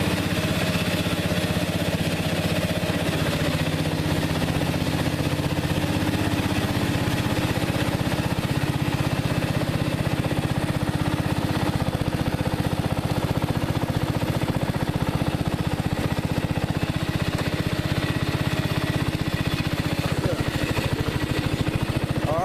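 Riding lawn mower, modified to go faster, running in full gear while driving, a loud steady engine drone throughout with a voice faintly under it.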